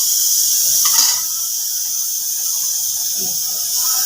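Hot oil tempering for masoor lentils sizzles in a home kitchen, a loud, continuous bright hiss that stays close and steady throughout, with faint clatter and movement underneath.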